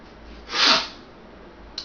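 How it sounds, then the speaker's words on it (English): A single nasal sniffle or snort swells for a moment from a speaker with the sniffles, close and breathy against quiet room tone, with a faint click near the end. "I got a bit of the sniffles"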